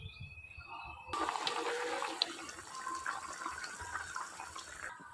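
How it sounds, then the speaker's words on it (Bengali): Water in a pot of Bengali shol fish curry with potatoes comes to a boil, giving a soft, continuous bubbling hiss that swells after a second and stays steady, fairly faint and close. "এই দেখেন তরকারির জল কত সুন্দর ফুটে গেছে"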